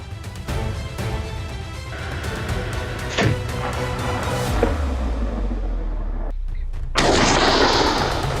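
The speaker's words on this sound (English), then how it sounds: "Another shot, another target." Rifle shots ring out during a wild boar hunt in the woods, sharp reports standing out over a constant, rumbling outdoor background.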